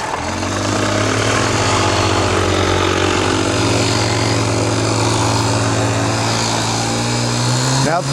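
A vintage 1980 Honda Express two-stroke moped engine runs steadily and loudly up close, a buzzing, even drone with a slight rise near the end and no speech over it.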